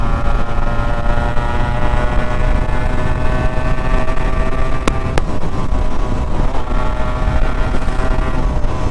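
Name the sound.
Yamaha RXZ two-stroke motorcycle riding at speed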